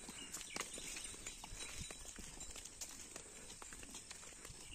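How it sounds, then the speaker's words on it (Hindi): A bull and goats walk across the ground on a rainy day, their hooves landing in scattered, uneven clip-clop steps over a steady hiss of rain and outdoor noise. "देखिए मेरा बैल बकरी सब जा रहा है"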